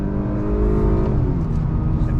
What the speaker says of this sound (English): You're not getting too much buzz from the engine, even though it's a inline-4 turbocharged engine.